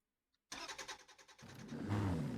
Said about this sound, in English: battery may not have had enough juice to start this diesel engine, but it does